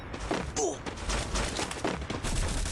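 Rapid bursts of gunfire and booming impacts from a shooter video game rattle in quick succession, loud and close, with a voice talking over the action.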